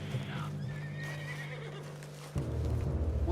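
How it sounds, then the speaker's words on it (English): A spooked horse in Red Dead Redemption 2 gives a long shrill whinny, close and loud over a steady low hum, then a thud and snorting rumble near the end. "What's got this horse spook, huh?"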